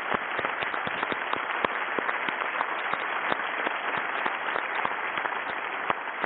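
Congress delegates applaud Gianni Infantino's re-election as FIFA president, a dense, steady round of clapping from a large hall crowd, sustained and even throughout with no talk.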